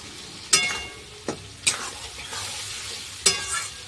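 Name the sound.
stirring and frying spices with coriander leaves for fish curry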